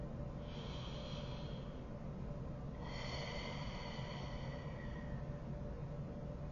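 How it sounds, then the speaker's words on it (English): Two slow, deep breaths taken in a quiet room, a longer airy inhale followed by a fuller exhale, close and fairly soft with no talking. "Take a deep breath with me"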